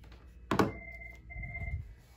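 A desk phone line on a VoIP office system rings with a steady electronic two-tone trill in two bursts, following a brief thump, close and fairly quiet with no talk.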